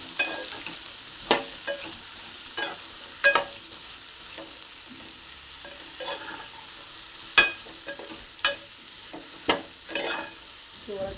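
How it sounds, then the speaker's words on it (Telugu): Bottle gourd pieces fry in a pan for chutney, a soft continuous sizzle broken by frequent scraping stirs of a spatula, close up and without speech. "మనం కట్ చేసుకున్న ముక్కలు ఇందులో వేసుకొని ఫ్రై చేసుకోవాలి"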